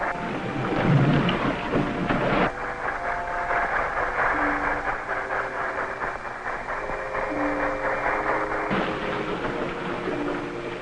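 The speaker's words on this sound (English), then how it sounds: "High-speed propellers passing down the starboard side." High-speed ship propellers passing close by as heard from inside a submarine, a dense rumbling, churning wash that holds steady throughout with faint tonal hums over it.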